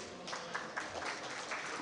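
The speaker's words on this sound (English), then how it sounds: "We can clap for him." An audience claps at a ceremony celebrating 40 years of Chinese government scholarships, a brief, even patter of many hands heard from a distance that holds steady without voices.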